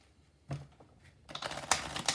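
Romantic Tarot cards shuffled by hand, a brief soft riffle followed by a run of quick, close crisp flutters and snaps.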